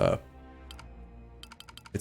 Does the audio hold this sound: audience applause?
no